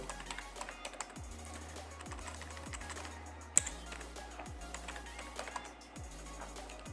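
Typing a file name on a computer keyboard in Microsoft Access, a steady run of quiet, close key clicks with a few louder taps, alone without talk.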